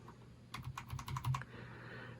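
Computer keyboard keys tapped in a quick burst of about eight clicks while navigating a PC BIOS menu, close and fairly quiet over a low steady hum.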